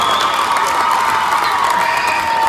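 A large crowd at a girls' high school basketball game cheers loudly after an and-one finish, a continuous roar of shouts and whoops with no let-up.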